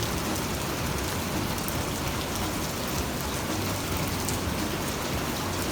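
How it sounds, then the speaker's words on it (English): Pouring rain in the Ozarks at an off-road park in Missouri, a loud, unbroken hiss of drops hammering surfaces throughout, with no voices and no pauses. "and it was pouring."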